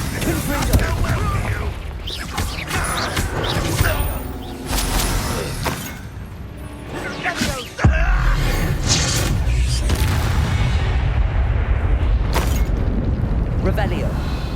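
Spell blasts in the Hogwarts Legacy video game, Confringo explosions booming loudly through a busy battle mix of repeated bursts and impacts, with a sharp loud hit near the middle and voices shouting over the fighting.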